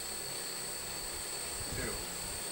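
Four motors on a custom budget quadcopter whine steadily during a tied-down power test, a constant high-pitched hum with a brief low rumble near the end.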